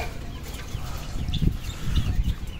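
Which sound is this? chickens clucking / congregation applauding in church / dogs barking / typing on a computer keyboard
chickens clucking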